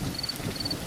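Light rain falls steadily with a low rumble of thunder as horror-story ambience, while a faint, thin insect-like chirp sits over the constant hiss.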